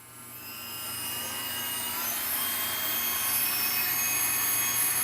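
Rotary tool running at 28,000 RPM with a 1/8-inch drywall guidepoint cutting bit, a steady high-pitched whine that rises slightly at the start then holds loud and constant, with no voices.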